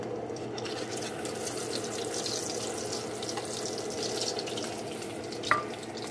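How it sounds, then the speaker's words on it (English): Steady oily sizzling and crackling of patties frying in a pan, continuous and close, with one brief clink near the end. "Okay, so I'm going to continue frying these up."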